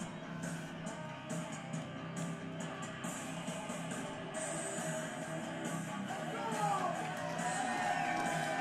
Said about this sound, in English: he actually got some energy out of the crowd